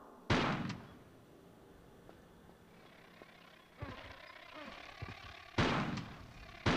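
Gunshots fired at a bug in the video game Tomb Raider 4: The Last Revelation, a few loud, sharp bursts spaced several seconds apart, separated by quieter clatter and ambient game sounds.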